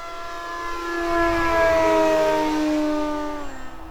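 An FMS Beaver 2000mm radio-controlled plane flies past at full power, its electric motor and propeller giving a clear whining tone that swells as it nears overhead and then fades slightly, with no voices.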